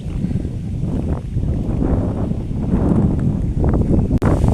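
Strong gusts buffet the microphone outdoors at the Banan hilltop temple in Battambang, a loud, rumbling roar that swells and eases with no talk over it.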